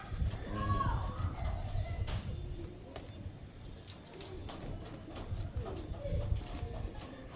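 Pigeons in a loft, soft repeated cooing calls scattered under steady background noise, with people talking nearby and occasional clicks and knocks.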